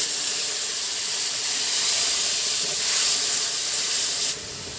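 Water poured into a pan of ginger and cumin paste sets off a steady, loud hissing sizzle that holds for several seconds, then drops off to a quieter steam near the end.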